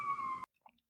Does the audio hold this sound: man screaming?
no